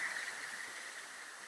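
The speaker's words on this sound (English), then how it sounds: "Well, that's a waterfall." A waterfall beside a seldom traveled road in rural Mexico gives off a steady, even hiss of rushing water, continuous and moderately loud, with no voices.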